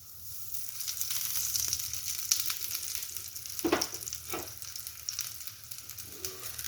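Aloo paratha fries in ghee on a griddle with a soft, continuous sizzle close by and a few brief crackles and spatula scrapes rising above it.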